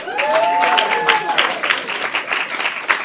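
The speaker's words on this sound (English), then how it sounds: "Okay, round of applause, please, for our panel." An audience applauds a film-diversity debate panel at Channel 4's London headquarters, with steady, dense clapping throughout while a presenter's voice carries on over it.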